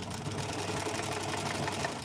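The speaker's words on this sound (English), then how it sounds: "I'm going to sew this one from this side and just see if it's better." A sewing machine stitches fabric without a paper backing, giving a steady, close, continuous mechanical whir with a fast even rhythm and no talking.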